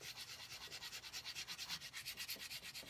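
Guitar chrome hardware being buffed with damp aluminium foil in a circular motion, giving a rhythmic, repeating rubbing scrub about five strokes per second, close and steady with no talk.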